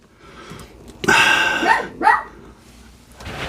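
Dogs bark in a quiet residential neighborhood: after a faint start, two close, loud bursts of barking come about a second apart, followed by a softer yip at the end.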